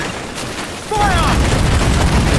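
A loud cannon boom from a pirate ship in Assassin's Creed Black Flag lands just before the one-second mark, followed by a sustained roar and whistling streaks as battle noise and shouting continue.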